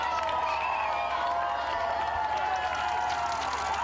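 Spectators lining the London Marathon 2015 route clap and cheer steadily, a dense wash of applause and crowd noise at moderate distance with no break.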